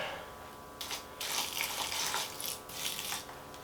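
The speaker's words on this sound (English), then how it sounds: "There's not too much water in it. Add just a bit more." Water is poured from a tap into an egg box, a soft, quiet splashing trickle in short bursts with brief pauses between them.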